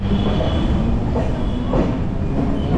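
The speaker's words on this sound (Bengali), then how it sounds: "আর এই হচ্ছে আমাদের ট্রেন দাঁড়িয়ে আছে যোগবাণী এক্সপ্রেস।" The Kolkata Jogbani Express, train 13159, stands at Naihati Junction with a continuous loud rumble of idling rail machinery and station noise, steady and close throughout.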